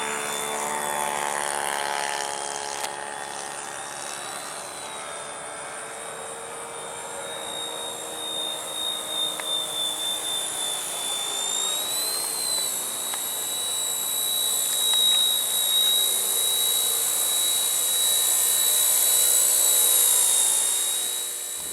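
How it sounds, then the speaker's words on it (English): An RTR Hobby Jet Ranger RC helicopter flies at slow speed outdoors, its small electric motor and rotors giving a steady high whine that rises and falls slightly in pitch and loudness as it hovers and moves. "Super fun, low cost helicopter"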